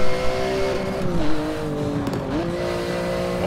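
A race car in Forza Motorsport 7 runs loud and steady, its engine note rising and falling through the low gears, with a brief tire squeal partway through and no voices.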